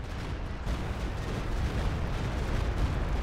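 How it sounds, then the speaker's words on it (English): A Stuka dive bomber attacking in Company of Heroes 2 produces a dense, continuous roar of explosions and rumbling blasts, loud and unbroken for a few seconds with no talk. "Stuka firing."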